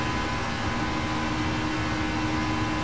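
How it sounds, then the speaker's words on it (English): Airliner engines of a PMDG 737 in a flight simulator run as if throttled all the way up, a steady, loud broadband roar with a faint tonal whine, unchanging and alone with no voices. "a sound in the background like the engines are throttled all the way up"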